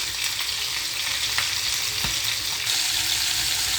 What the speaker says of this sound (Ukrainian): Та обсмажую зараз з приправою і з сіллю